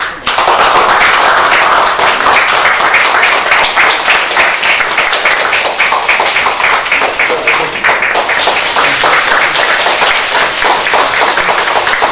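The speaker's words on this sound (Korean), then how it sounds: "큰 박수로 맞이해 주셨으면 합니다" A large audience at a Democratic Party recruitment announcement gives loud, continuous applause to welcome a guest and his friends, a dense, even wall of clapping sustained for over ten seconds with no talk.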